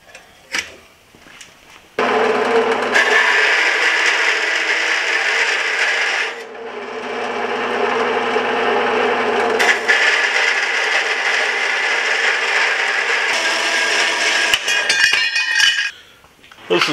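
A metal-cutting saw slices through old patinated steel stock in a workshop, a loud, sustained grinding screech running for several seconds, briefly easing mid-cut, then continuing before stopping with clinks of metal.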